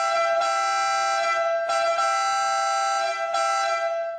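Loud country horn of a 1972 Citroen DS21, sounding as a strong, sustained brassy blare held almost continuously, with a few short breaks and re-presses.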